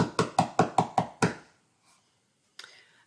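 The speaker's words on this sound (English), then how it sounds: "So if we try and tap the speed of the beat," Hands tap a fast, even beat on knees, six or seven quick, close, loud slaps in a steady run, then a pause and one softer tap alone.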